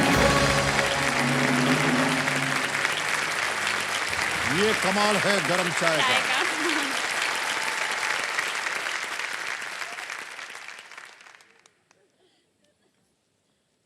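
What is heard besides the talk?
studio audience applause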